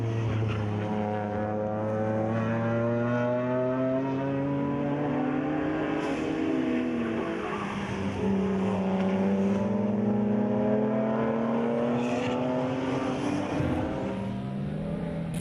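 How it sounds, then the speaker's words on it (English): BMW race cars battle through the late stages of a club race, their engines droning steadily at a moderate distance, pitch rising and falling as the cars shift and lap without any voices. "Nothing like a good family battle heading into the last quarter of the race, with the Herbst pair trading fourth place"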